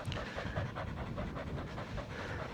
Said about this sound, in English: they're panting around